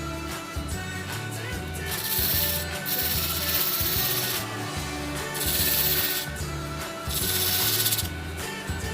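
A 60 grit pad sands a wooden bottle opener handle spinning on a wood lathe, making a loud, steady rasping rub that swells and eases in rhythmic passes.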